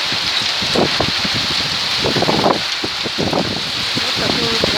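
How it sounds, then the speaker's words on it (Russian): Heavy summer rain driven by wind, a dense steady hiss with gusty rushes and scattered drops hitting nearby surfaces, recorded outdoors close to the microphone while a person speaks softly underneath. "Снова дождь, да еще какой. Ветер."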